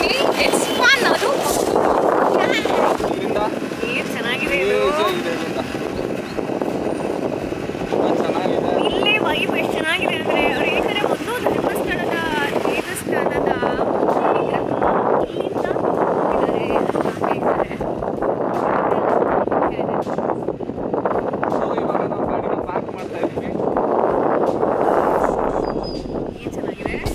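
Steady wind buffeting and a low engine drone from a scooter ridden on the road to Kadri temple in Mangalore, loud and continuous throughout, with a voice faintly under the noise.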